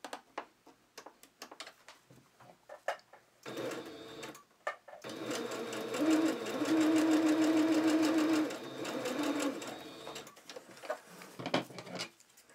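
A sewing machine runs a gathering thread across lace on a doll dress. A few short bursts of stitching lead into a long continuous run, then brief ticking stops and starts, close and clear.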